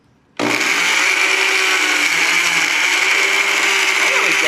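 Blender starting abruptly and running at full speed while making a watermelon slushie, a loud, steady whirring roar that holds for several seconds, close by and with no talk.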